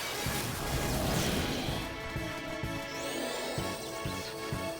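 Glass shattering in the Final Fantasy X video game, a loud sustained crash with scattered bright tinkling shards, mixed over game music and effects with repeated low thuds.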